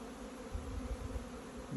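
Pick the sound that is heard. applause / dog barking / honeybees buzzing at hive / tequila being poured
honeybees buzzing at hive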